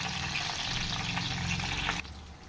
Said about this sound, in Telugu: ఒక సైడ్ వేగుతుంటే ఇలా అటువైపు కూడా టర్న్ చేసుకోవాలి, తిప్పుకోవాలండి